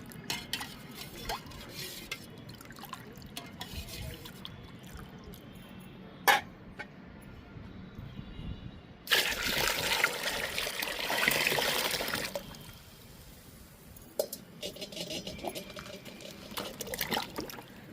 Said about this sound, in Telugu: ఈ వాటర్లో ఈ లిక్విడ్ని కలుపుకుందాము